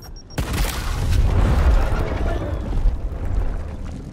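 A frag grenade detonates in the video game Gears Tactics: one sudden, loud blast that swells into a heavy, sustained rumbling roar lasting several seconds.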